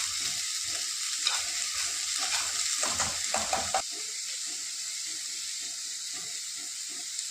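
Grated coconut and jaggery stirred in a hot pan: a few seconds of busy scraping and crackling over a strong hiss, then a steadier, quieter sizzle with occasional light scrapes.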